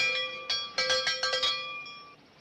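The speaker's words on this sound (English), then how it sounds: "clothesline to the cowbell so's I could signal you from the coach" Cowbell rung by a clothesline as a train signal, a series of bright metallic clangs in quick uneven succession, then ringing out and fading, with no voices.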